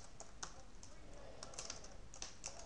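Typing on a computer keyboard, a quick irregular run of light clicks and taps close by, fairly quiet against a soft background hiss with no speech.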